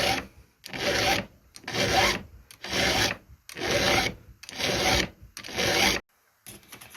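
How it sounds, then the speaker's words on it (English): A chainsaw chain is sharpened with a hand file in six loud, close, even rasping strokes with brief gaps between them, then a short softer scrape, and no voices. "I'm just filing"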